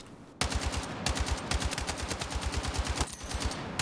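An RPK light machine gun fires in Battlefield 6: long, rapid, evenly spaced bursts of loud, close automatic fire, with one brief pause between strings of shots.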